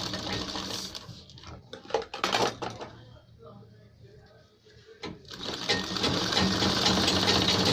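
A sewing machine stitches a black button placket on a ladies' full-collar kurta, whirring loud and close in two long runs around a quieter lull, with some speech underneath.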